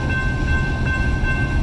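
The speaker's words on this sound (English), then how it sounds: "I got stuck at a railroad crossing with the longest, slowest train I think I've ever seen." Long, slow freight train rolling past a railroad crossing in a suburb, a close steady rumble of rail cars with a faint ringing crossing-bell tone held throughout, no talking.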